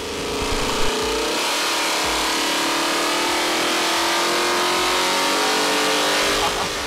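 A car engine revs hard on a dyno with a 150-shot of nitrous at 31 degrees of timing, a loud, close, sustained roar climbing steadily in pitch throughout the pull.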